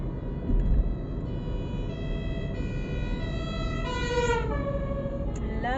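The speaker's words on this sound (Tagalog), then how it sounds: "Ang ingay ng mga bumbero" A fire truck siren wails steadily, its pitch rising and sweeping, with rumbling traffic underneath and no voices.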